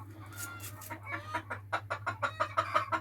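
Chickens in a village cluck near the mic, starting with scattered soft calls and building into a quick rhythmic run of louder clucks over a steady low hum.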